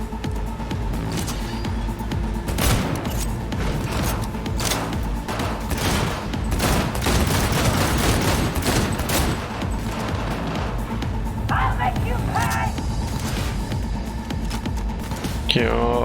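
A sniper assault rifle fires in the video game Cyberpunk 2077. Loud, sharp shots come in irregular bursts throughout, mixed with heavy game combat noise and crashes.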